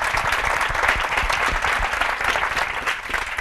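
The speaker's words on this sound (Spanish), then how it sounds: "Jo demanaria un aplaudiment ben fort per ells, també." Dense, sustained applause fills the room at a business innovation workshop, many hands clapping together at an even level with no gaps.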